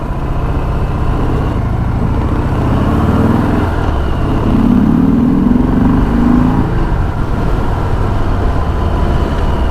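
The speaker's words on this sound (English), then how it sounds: "So at slow speed you can really hear the little ticking of the engine." A stock-piped Harley-Davidson M8 engine on a Sport Glide runs at slow speed with a steady, low rumbling idle and a faint mechanical ticking, close and continuous with no talk.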